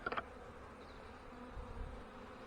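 Honey bees buzz at a crowded hive box during a March hive check, a faint steady hum throughout with a few louder bursts at the start and a low rumble near the end.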